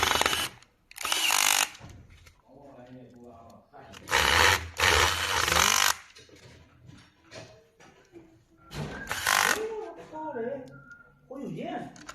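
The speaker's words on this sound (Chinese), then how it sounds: "然后再把螺丝打上" Screws being driven into an ultrasonic flowmeter motherboard with a power screwdriver, several loud, short whirring bursts separated by quieter handling noises and talk.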